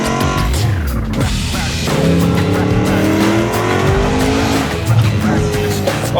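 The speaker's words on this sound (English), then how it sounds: "Nothing like a Supercharged V8." A loud Whipple-supercharged V8 Mustang Dark Horse accelerating hard, with rising engine pitch sweeping up through gears and a roaring, continuous exhaust note.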